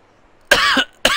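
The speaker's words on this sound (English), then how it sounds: "Apologies for the coughing" A person with a lingering sinus infection coughs twice, one harsh cough followed by a second starting after a short pause, close and loud against a quiet background.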